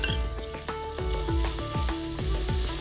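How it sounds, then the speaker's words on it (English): Mutton korma with tomatoes sauteing in oil: a loud, constant sizzle and crackle of frying, with rhythmic scraping strokes of a stirring spoon against the pan every fraction of a second. "And saute this till oil separates and the tomatoes are nice and soft and mushy."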